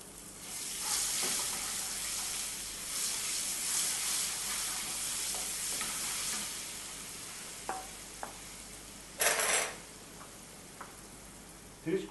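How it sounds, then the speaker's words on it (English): Garlic dropped into hot oil that had just been used for frying sizzles steadily in a pan, a broad, even hiss with small ticks and a brief louder crackle near the end. It sounds close and there is no talking. "In the same oil, we now add the garlic."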